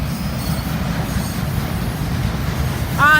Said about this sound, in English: that looks like some sort of undercutter to me